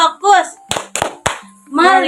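A class performs the tepuk fokus clapping ice breaker: voices chant between sharp, close bursts of three claps in a quick rhythmic pattern, then the chanting resumes.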